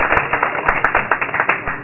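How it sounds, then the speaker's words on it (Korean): Applause from an audience at an awards ceremony for a women's esports league, a steady patter of many hands clapping close by, dense and continuous for the whole moment. "박수 좀 부탁드립니다."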